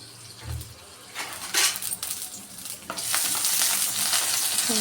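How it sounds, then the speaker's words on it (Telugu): Green chillies frying in a pan for a pumpkin curry crackle and sizzle up close, with soft stirring scrapes, and the hiss swells louder in the last couple of seconds. "పచ్చిమిర్చి చేయడం వల్ల కొంచెం టేస్ట్ బాగుంటుంది అవి కొంచెం ఫ్రై చేద్దాం"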